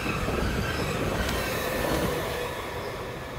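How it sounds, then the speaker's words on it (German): Multiple-unit passenger train on the Gotthard line heading toward Bellinzona, a steady rolling rumble of wheels on rail with faint squeal, fairly close and continuous, easing slightly toward the end. "Kurz nach 8 Uhr ist der Triebzug auf dem Weg zurück nach Bellinzona."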